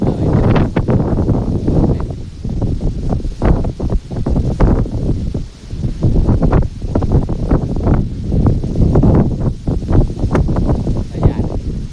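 Strong storm wind roars through a forest in Thailand, a loud, continuous broadband rush that surges and eases in gusts, with brief dips before swelling again.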